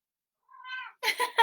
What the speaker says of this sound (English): My cat is meowing at the door.